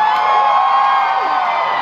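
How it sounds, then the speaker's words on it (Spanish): A stand-up comedy audience of people under 25 answers a request with a loud, sustained group shout and cheering that fills the room for about two seconds without a break. "Quiero que levanten la mano y un grito a los menores de 25 años"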